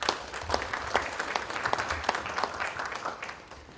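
A round of applause welcoming the chief guest at the SecureIT 2015 inaugural session in India, with moderately loud, distinct individual claps scattered through a hall audience, fading slightly toward the end.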